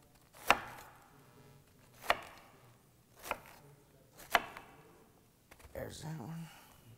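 A kitchen knife chops down through cabbage on a cutting board in four sharp, evenly spaced cuts, followed by softer handling and rustling of the leaves.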